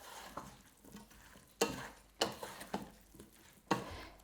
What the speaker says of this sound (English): Just give that a stir round.